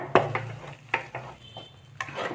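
A spoon stirs thick kozhukattai dough in a metal pot, giving a few separate scraping clanks spaced unevenly over about two seconds. The sounds are close and moderately quiet, with no talking.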